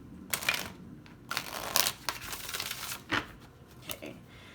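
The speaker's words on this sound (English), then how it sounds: "One more shuffle." Tarot cards are shuffled close up, a few quick papery riffles and soft crinkling bursts spread across the moment, quiet and with no talk over them.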